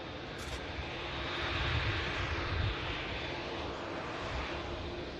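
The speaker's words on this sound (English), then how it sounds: "2E Dreamliner just vacating right ahead of us." Boeing 787 Dreamliner at Manchester Airport, a distant, fairly quiet broadband engine roar that swells slightly and holds steady, heard from outside without talk.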